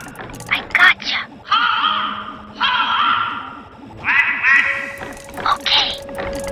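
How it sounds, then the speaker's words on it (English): A bird call played through the grapple cam speaker in Sly 3: Honor Among Thieves: a series of nasal, quacking squawks in short bursts, repeated several times over a steady rhythmic game background. "I'll make a bird call through the grapple cam speaker."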